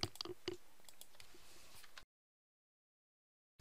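Computer mouse clicks tap quietly, several sharp faint clicks in the first two seconds under light background noise, then silence.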